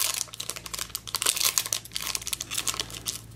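A Pokemon HeartGold booster pack wrapper is torn open by hand without scissors, giving continuous close crinkling and crackling of foil plastic in dense bursts for several seconds, with no talking.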